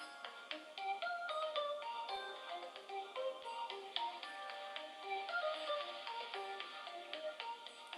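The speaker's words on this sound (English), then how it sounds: "Oh, that's somebody on Karema's phone" A mobile phone ringtone goes off in a room during a spiritual talk gathering, playing a repeating chime-like melody of bright plucked notes, quiet and somewhat distant, for about eight seconds.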